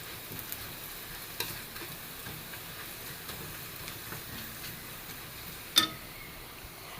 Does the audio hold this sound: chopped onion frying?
yes